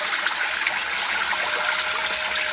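Water trickles and splashes through a homemade geothermal evaporative cooler on its first test, a steady close hiss of running water with no pauses and no voices.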